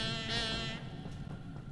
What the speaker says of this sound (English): It's the kazoo.